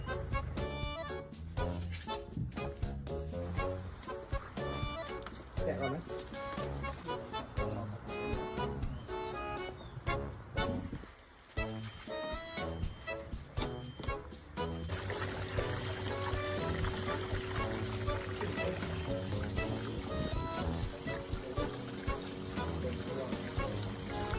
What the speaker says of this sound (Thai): น้ำตกทิศนี้นะครับ